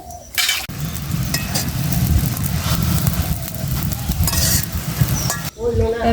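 Food is frying in a wok while it is stirred, giving a loud, steady sizzle and rough scraping that last almost the whole clip. The sound starts and ends abruptly.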